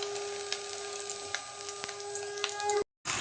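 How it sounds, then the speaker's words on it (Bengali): Brahmi leaf and masoor dal fritters fry in hot oil until reddish, making a soft, continuous close sizzle with scattered small pops and a faint steady tone, ending in a brief cut to silence. "সবগুলোকে একদম লাল লাল করে ভেজে নিয়েছি"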